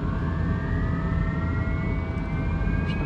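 The engines of a King Air twin turboprop spool up for takeoff, giving a loud, continuous roar with a rising turbine whine that climbs steadily in pitch throughout.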